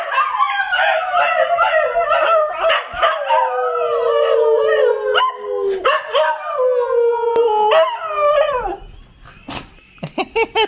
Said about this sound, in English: he'll get in a howling fit